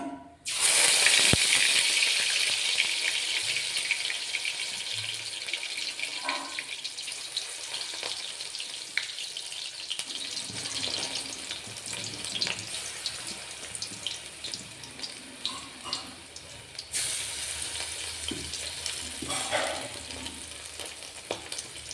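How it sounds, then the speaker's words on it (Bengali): Water spinach fritters fry in oil with a loud, broad crackling hiss that fades somewhat and turns patchier, dotted with small pops and bubbling, no voices present. "সাথে কয়েকটা হিংচের বড়াও ভেজে নেব।"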